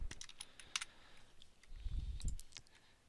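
Typing on a computer keyboard while laying out a full-color design book: scattered clicky keystrokes in short bursts, close and fairly quiet, with a few duller thumps toward the end.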